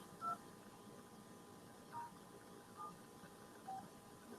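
Soft keypad tones from a cell phone calculator app, four short separate beeps spaced out over a quiet background, with faint talking.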